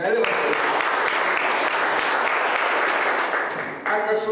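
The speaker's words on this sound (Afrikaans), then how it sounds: "ek kan ons vir die worship span klap" Church congregation claps for the worship team in a brief burst of dense, even applause that holds for a few seconds, then thins as a voice begins to speak.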